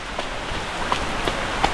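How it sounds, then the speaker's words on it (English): Heavy monsoon rain pours steadily onto a roof in the Andaman and Nicobar Islands, making a dense, even hiss with a few sharper drip taps scattered through it. "listening to the sound of the rain on the roof"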